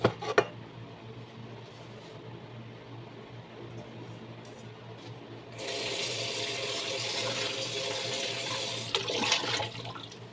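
Tap water rinsing chickpeas, starting with faint background and a brief clatter, then a strong steady rush of running water from midway to the end, close by, with no talking.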